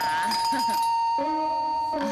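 A doorbell sounds a clear ding-dong, two bright tones ringing out one after the other and fading, loud and close, with voices in the room around it.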